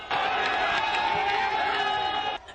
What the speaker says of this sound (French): au milieu d'une foule immense, faire le pied avec cette masse en liesse